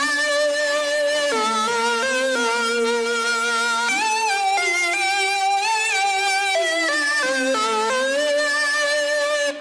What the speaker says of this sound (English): This Alchemy preset is called the Sweet Lead